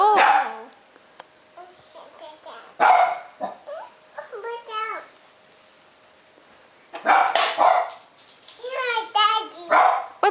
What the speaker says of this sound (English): What's the doggy doing? What's the doggy saying?